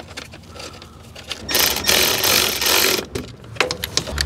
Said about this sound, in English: we can put those 10 millimeter bolts back in that hold that in place